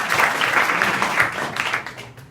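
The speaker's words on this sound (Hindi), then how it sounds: "राघव के लिए जोरदार ताली बजाओ" Schoolchildren in a rural Indian classroom clap loudly together for a classmate, a quick burst of rapid applause that fades out within a couple of seconds.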